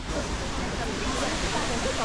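A waterfall beside an emerald pool on a trip to Mount Baekdu gives off a loud, steady rushing roar that fills the whole moment without a break.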